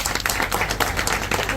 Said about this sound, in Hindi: बहुत अच्छे, तालियां बजा दो भाई।